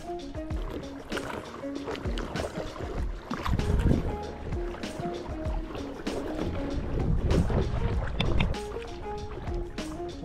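An old small diesel outboard motor, an ET8, drives a boat on a river, its busy engine drone mixed with splashing water and wind noise, loud and close throughout.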